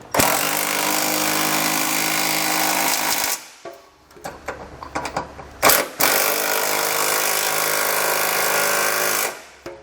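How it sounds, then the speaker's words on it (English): Pneumatic impact wrench with a 3/4 inch socket tightening flange nuts while mounting a Curt trailer hitch receiver on a 2020 Ford Explorer: two long, loud rattling bursts, close up, separated by a few seconds of clinks and handling noise. "we can tighten our flange nuts down with the 3/4 inch socket"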